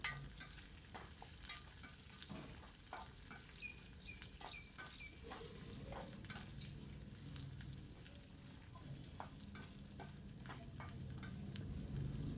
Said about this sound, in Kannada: ಈಗ ಇದನ್ನು ಕೂಡ ಹಾಕ್ಕೊಂಡು 1 ನಿಮಿಷಗಳ ಕಾಲ ಚೆನ್ನಾಗಿ ಫ್ರೈ ಮಾಡ್ಕೊಳ್ಳೋಣ